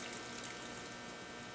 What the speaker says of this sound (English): Okay, this is just from the tap cold water